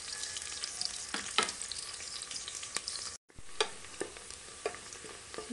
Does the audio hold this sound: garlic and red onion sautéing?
yes